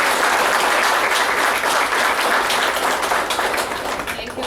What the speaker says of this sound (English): So we should clap once for Indore staff.